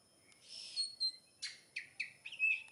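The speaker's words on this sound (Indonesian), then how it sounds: "ini sih kayaknya kacer betina sob." A female oriental magpie-robin perched in a tree in front of a house gives a series of sharp, high chirps and whistles, several short calls in quick succession, clear and fairly close against a quiet background.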